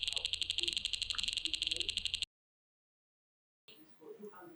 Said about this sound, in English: the amber drone has this ticking sound that happens when you're kind of looking for a new position.